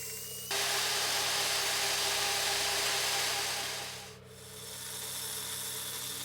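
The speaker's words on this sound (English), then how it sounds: "on the quarter band saw, we're just going to roughly cut out the profile" A bandsaw rasps steadily through steel, roughly cutting a hidden-tang knife profile, a loud continuous hissing cut over the machine's hum that dips briefly near the end before resuming.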